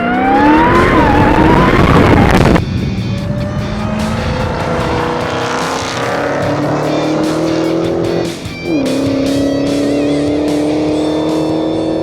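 A supercharged engine in a 2015 Dodge Challenger Hellcat revs hard and loud up close, its pitch climbing with a supercharger whine, then drops and settles into steady higher-pitched running with another brief lift.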